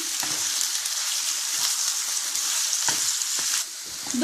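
Mushrooms frying in a pan on the stove give a steady, close sizzle, with soft scraping and clicking as they are stirred.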